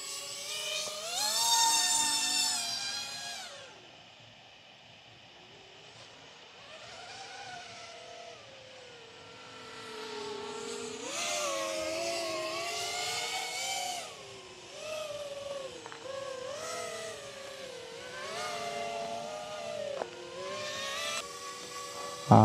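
A 5-inch FPV racing drone flies outdoors, its motors giving a high, buzzing whine that rises and falls in pitch as it speeds up, turns and passes, alternating between loud close passes and fainter distant stretches.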